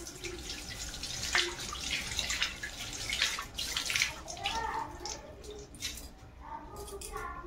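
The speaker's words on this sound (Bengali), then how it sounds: "আচ্ছা, হাতটা ধুয়ে নিচ্ছি।" Hands washed under a running tap, with splashing water and drips, fairly close and moderately loud, the flow changing as hands move through it.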